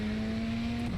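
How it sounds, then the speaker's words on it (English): Turbo wastegate flutter from a race car in a racing video game, a steady engine drone with a fluttering whoosh near the end as the throttle lifts, loud and continuous. "I heard a little bit of a wastegate"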